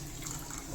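Water is poured into cooked lentils for spinach sambar, a brief, soft, continuous splashing pour heard close up.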